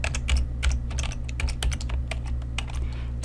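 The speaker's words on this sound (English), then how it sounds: "So let's type workbooks." Rapid typing on a computer keyboard while entering Excel VBA code, a steady run of close, crisp key clicks over a low constant hum, with no talking.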